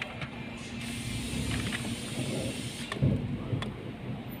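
Worn car brake pads scraping metal to metal, a low rough grinding and hiss heard from inside the moving car, steady with a brief louder scrape near the end.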